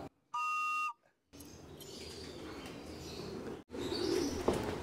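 Racing pigeons come in at a loft, with a short clear whistle followed by rustling, fluttering movement and soft bird calls nearby, outdoors.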